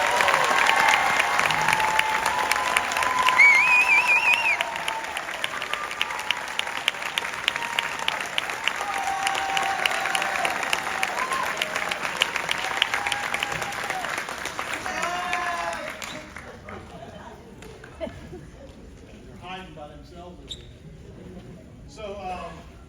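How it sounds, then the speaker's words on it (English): Audience at a spring wind symphony concert applauds the graduating class of 2025, with dense sustained clapping and some whistles and cheers for about sixteen seconds before it fades into scattered claps and quiet murmuring. "So please thank them for me and applaud for the class of 2025."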